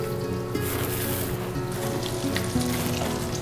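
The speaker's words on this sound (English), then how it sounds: "Hey, now we're frying." Egg-battered food topped with grated cheese sizzles steadily in a frying pan, a close, continuous crackle with occasional faint clinks and no talk.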